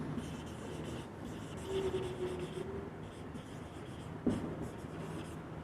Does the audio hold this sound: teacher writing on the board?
yes